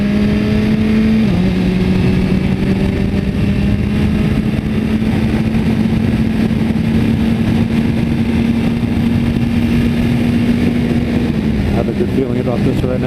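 A motorcycle on a canyon road at night gives a steady, loud engine drone with wind rush that shifts pitch once near the start, then climbs slowly as it holds speed.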